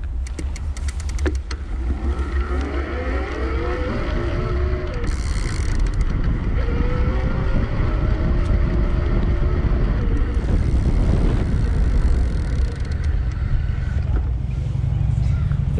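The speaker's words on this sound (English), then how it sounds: "I'm gonna pedal along in the highest level of assist so you can hear that motor." A Specialized Turbo Como 3.0 IGH electric bike motor at highest pedal assist gives a steady whine with rising and falling pitch under road and tire noise, close and continuous throughout.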